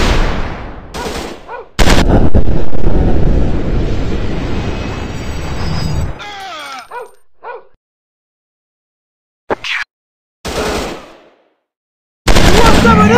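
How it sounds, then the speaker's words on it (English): Gunfire in an FPS commando shooting game: a loud sustained burst of automatic fire, then tapering shots and short sharp bursts separated by silent gaps. "I'm shooting these fools up!"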